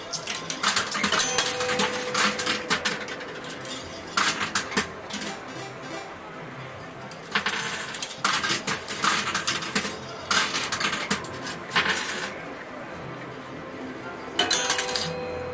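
Coins and bonus plates clatter down inside a coin pusher arcade machine in repeated bursts of metallic clinking and rattling, close and bright, separated by quieter stretches of mechanical hum.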